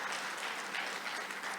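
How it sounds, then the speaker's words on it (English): A conference audience applauding the Secretariat at a closing ceremony, with steady dense clapping held at even loudness throughout. "So I really would appreciate if we could give the Secretariat a round of applause for producing this report"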